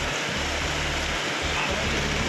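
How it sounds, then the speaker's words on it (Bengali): Rain falling heavily and steadily as a storm nears the coast, a dense, even hiss filling the air with a low rumbling undertone. "কাকদ্বীপে বৃষ্টি শুরু হয়ে গেছে 11টার সময়, সেটা এখন আমাদের এখানে হলো"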